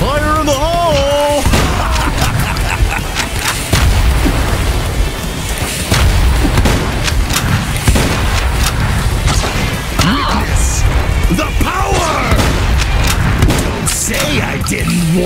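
Grenade blasts and chaotic combat in the Huntdown video game, loud repeated booms and crashes over constant action effects, with shouted voices mixed in.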